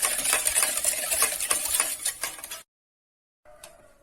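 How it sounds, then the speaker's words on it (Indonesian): A spoon stirs a mixture of egg white, sugar, salt and coconut milk in a bowl, making quick clinking, swishing strokes that stop abruptly, followed by silence and a faint tap. "Aduk sampai gulanya larut"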